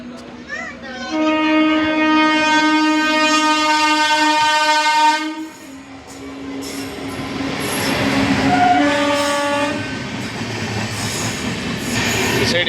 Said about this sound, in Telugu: వెనకమ్మడి 1 నిమిషం ఆగిందో లేదో మళ్ళీ స్టార్ట్ అయింది ఫ్రెండ్స్ ట్రైన్.